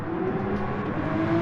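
GR3 race cars in GT Sport drone past in a steady, close engine whine, running together in a pack to catch slipstream.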